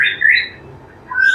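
An imported wild white-rumped shama gives a short, sharp, high call, with two bright bursts separated by a brief pause, close and alone.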